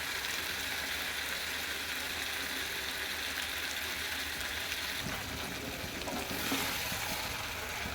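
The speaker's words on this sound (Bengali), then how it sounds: "ভালো করে মশলা দিয়ে কষতে হবে।" Mutton stir-fried with spices in a pan, a constant close sizzle with occasional scraping and clinking stirs, without talk.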